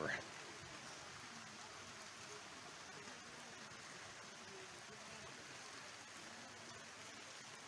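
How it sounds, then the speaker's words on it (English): Heavy rain pours down over an outdoor horse show speed event, a steady, even hiss of drops filling the whole stretch without a break. "And of course, the rain is coming down harder."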